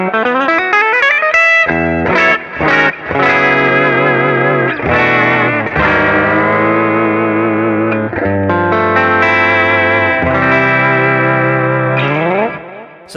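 An electric guitar through a BOSS Katana-100 MkII amp in stereo expand mode into an IR loader with a cabinet impulse response plays a distorted melodic line with chorus and echo. Sustained notes bend and slide, with a few short gaps, loud and alone.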